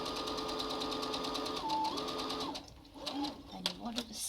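A sewing machine stitching a cloth face mask hums steadily up close and shifts pitch briefly as it backstitches to reinforce the seam. It stops after about two and a half seconds, and a soft voice and light handling sounds follow.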